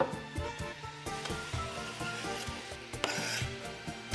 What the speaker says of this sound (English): In go the zucchini.